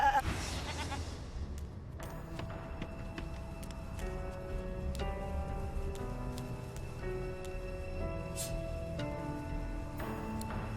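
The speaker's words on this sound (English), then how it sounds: "Shaking her fluffy coat, the sheep eyes you balefully" A sheep bleats in the video game Divinity: Original Sin II, its call set against game music with sustained tonal notes and soft ticking, steady and moderately loud throughout.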